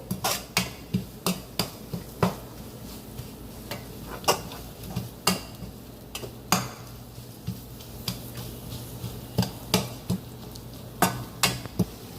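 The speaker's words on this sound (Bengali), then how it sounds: "এর মধ্যে একটুখানি তেল দিয়ে দিলাম আর মশলাটাকে ভালো করে নেড়ে নেব" A utensil stirs masala in oil in a pan with sharp, irregular metallic clacks and taps against the pan, repeated through the stretch over a low steady hum, close and without talk.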